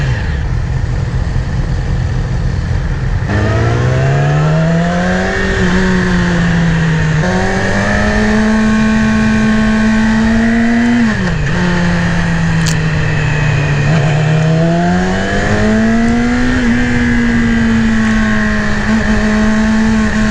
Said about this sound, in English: these 600s are still amazing bikes. And you can just rev them to the moon